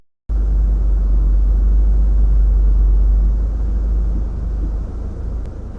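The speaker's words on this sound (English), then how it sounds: "The man parks his car and begins to explore the forest" A car's engine gives a steady, loud, low rumble at close range, easing slightly in level toward the end as the vehicle slows.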